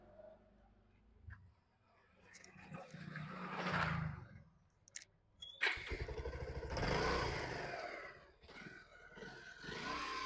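A second-hand motorcycle with about 25,000 km on it revs up close by in uneven bursts of roar rising and falling, with a few people talking around it.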